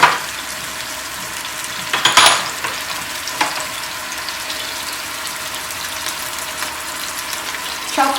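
Whole spices, chili flakes and salt sizzle in hot oil for a mutton khara masala, a constant close frying hiss broken by a sharp clattering stir and a few smaller bursts, with no voices.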